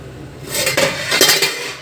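Corn stirred in a metal cooking pot for Filipino nilagang baboy, the spoon scraping and clinking against the pot in a few close, uneven strokes.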